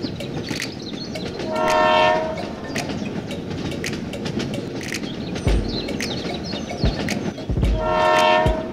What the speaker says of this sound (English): The train continues to the next station.